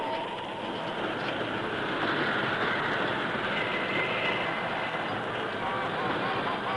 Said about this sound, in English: The work train had run through the short canyon and out onto the curving track beyond